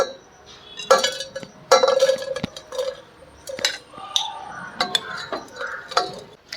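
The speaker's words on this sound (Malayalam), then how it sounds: "നമുക്കത് കുക്കറിലേക്ക് ഇട്ട് കൊടുക്കാം." Washed toor dal, the ordinary sambar kind, tipped into a pressure cooker, with clinks and clatters of a metal vessel and utensils in a home kitchen, a few louder knocks spread over several seconds.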